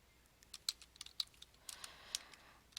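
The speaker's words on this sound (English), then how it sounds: "on the final screen, we're going to type exit" Quiet, sparse keystrokes on a computer keyboard, a scattered run of light clicks with a few sharper taps, near and alone with no talking.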